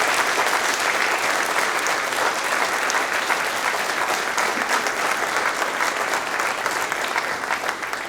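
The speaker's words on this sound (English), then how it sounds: "How about one last round of applause for all of our award recipients?" Steady, full crowd applause for award recipients at a police department awards ceremony, loud and continuous from start to finish with no break.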